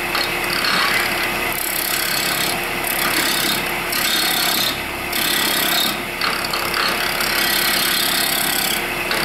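Wood turning gouge cutting a cove on a spinning lathe workpiece, a loud continuous scraping hiss with rhythmic surges and brief dips as the tool moves along the cut.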